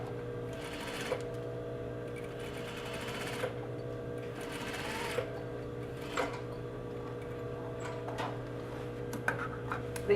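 A sewing machine runs an understitch on a western shirt pocket, a steady close hum with a fast rhythmic needle tick, interrupted by a few brief pauses and small clicks.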